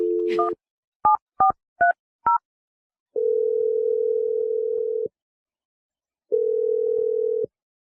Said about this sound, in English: We're gonna dial Clinton's phone number.